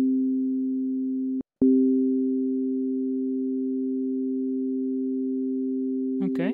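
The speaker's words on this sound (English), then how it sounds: "we can create other sine waves as overtones." A steady electronic additive-synthesis tone built from a sine wave with a few stacked sine overtones, briefly cutting out once before resuming, with a faint voice starting at the end.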